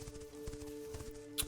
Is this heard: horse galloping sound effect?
yes